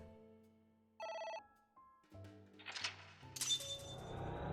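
A telephone rings with a short electronic chirping burst, followed by clinking, tinkling tones and a rising shimmering jangle that keeps going to the end, with no talk over it.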